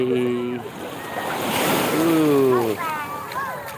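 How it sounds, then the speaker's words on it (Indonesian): Ocean waves wash and roar onto a beach at Ancol, Jakarta, under blustery wind, with a few voices speaking briefly over the surf. "Ombak."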